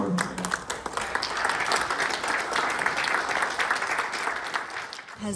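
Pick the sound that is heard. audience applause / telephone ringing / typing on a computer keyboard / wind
audience applause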